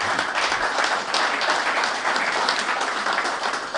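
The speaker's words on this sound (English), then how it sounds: "we can give him a round of applause" Guests at a Pinotage wine award ceremony break into loud, dense applause for a winner, continuous clapping holding steady before easing slightly at the end.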